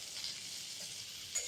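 Potatoes and papaya frying in oil for a Bengali rohu fish curry give off a steady, close, even sizzle with no talk, and a brief slight swell near the end.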